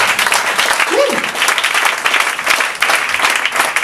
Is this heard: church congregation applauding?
yes